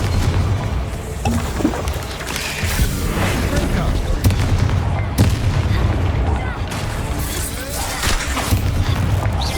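Dense, continuous blasts and booms from Confringo fire spells exploding in Hogwarts Legacy, a loud rolling barrage with sharp hits scattered throughout, spell-combat sounds layered with effects.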